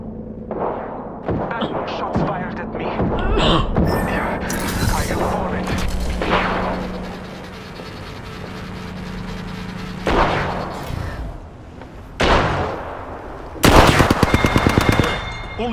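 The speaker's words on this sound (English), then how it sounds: "Shots fired at me." Rapid automatic gunfire and heavy booming shots ring out in the battle royale video game Apex Legends, loud bursts in several volleys with quieter stretches between, as a player talks over the action.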